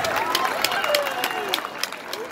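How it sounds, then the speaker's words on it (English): A crowd at the Magic Kingdom flag retreat ceremony at Walt Disney World claps in steady, moderately loud applause for young volunteers, the outdoor clapping dense and unbroken over a brief moment. "Let's give them both a big round of applause for helping us out today."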